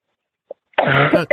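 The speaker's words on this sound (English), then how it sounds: "I'm so sorry, I keep coughing." A single brief cough, then a harsh, sustained fit of coughing close to the microphone, with a short quiet gap between them.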